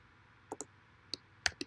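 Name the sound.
typing on a computer keyboard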